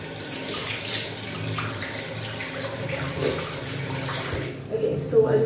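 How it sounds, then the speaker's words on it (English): Tap water runs and splashes at a bathroom sink as someone wets their face before cleansing, a steady close rush with brief louder splashes near the end. "before we apply this cleanser, I'm gonna lather my face with water"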